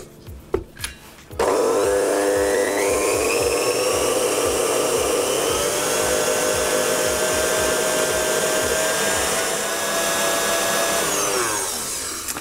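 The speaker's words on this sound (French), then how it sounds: "veillez à bien mélanger assez longuement pour que tout le produit s'incorpore correctement dans la crème" Praline is blended into cream for a Russian cake, a loud steady motor whir that starts after a couple of soft knocks and holds for about eleven seconds before tapering off.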